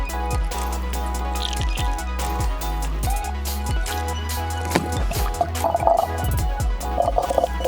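Coolant pouring and gurgling close by through a funnel into a motorcycle, with drips and glugs and a few bubbling bursts of air pockets toward the end.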